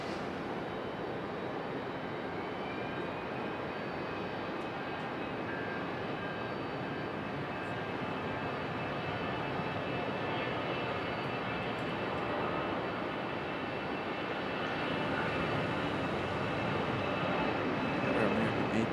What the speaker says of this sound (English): Got our American A319.